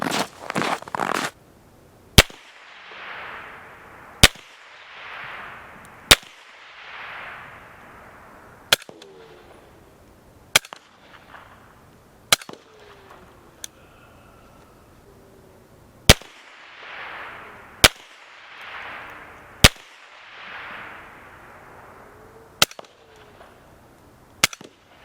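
Suppressed rifle shots comparing supersonic and subsonic rounds through a Q Porq Chop suppressor, about a dozen sharp, isolated cracks spaced a few seconds apart, each followed by a brief fading echo in an otherwise quiet outdoor setting.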